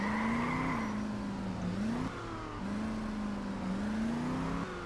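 A car driven in the video game Just Cause 2 roars steadily with a constant engine drone and some tire skidding, loud and continuous with shifting pitch throughout.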